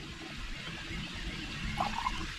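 Water flows into a Miracle-Gro spray feeder bottle being topped up, a quiet steady trickle that builds toward the end, where a few bubbly gurgles rise as it fills.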